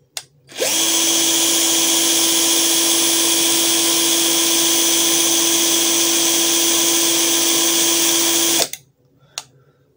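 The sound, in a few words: ZPER 21v cordless impact drill running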